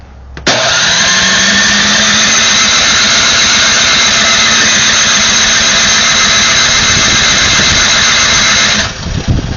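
A snow blower with electric start, unused for a long time, cranks and catches, then roars loudly at a steady high pitch close by for several seconds before dropping off near the end.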